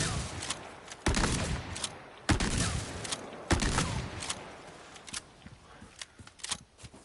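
Heavy shotgun blasts in Resident Evil 4 Remake, loud single shots spaced about a second apart, each with a sharp crack and booming tail, followed by quieter clicks and handling sounds.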